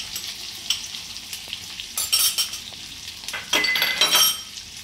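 Onions fry in a pan for crispy chilli baby corn, a low steady sizzle broken by louder bursts of stirring and scraping, close by and with no talking.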